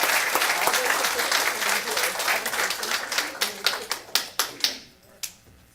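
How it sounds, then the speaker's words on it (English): Audience applause at a city council meeting: a full burst of clapping that thins out into a few scattered individual claps before stopping. "Let's give them a round of applause first."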